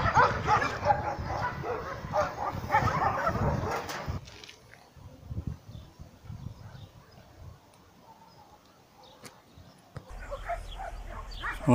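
Dogs kept behind a fence bark and yip in short bursts, fairly close, mixed with whimpering and background noise, then fading to quieter shuffling before another brief burst at the end.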